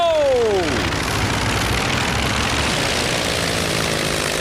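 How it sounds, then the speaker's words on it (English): A cartoon aircraft takes off with a brief rising whine and then a steady, loud engine drone that fills the rest of the moment. "Ready for takeoff?"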